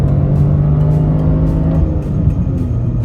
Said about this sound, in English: That's just a little 3rd gear pull.